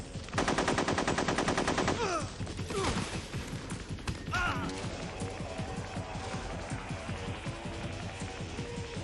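Rapid automatic gunfire in the Metal Gear Solid video game, loud dense bursts for the first seconds then scattered shots and impacts continuing under game noise.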